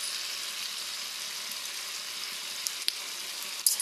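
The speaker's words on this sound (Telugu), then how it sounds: "పంచదార కరుగుతుందండి." Sugar dissolving in a little water in a pan for coconut sweets (kobbari mithai), giving a steady, close, soft sizzling hiss with a couple of faint clinks near the end.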